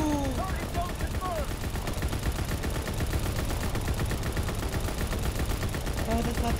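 Turret machine gun fire in Call of Duty WWII, a dense continuous rattle of rapid shots that runs the whole time, with faint game effects mixed in.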